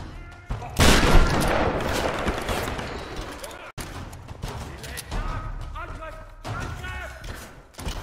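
Gunfire in the Tomb Raider video game, a burst of rapid loud shots followed by scattered thuds and impacts, with someone speaking German over the action.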